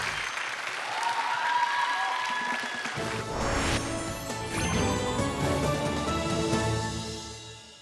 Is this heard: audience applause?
yes